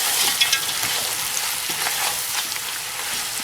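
Tomato paste stirred into Kashmiri rogan josh in a hot pan, giving a continuous bright sizzle with light scraping stir strokes, close up and with no voices.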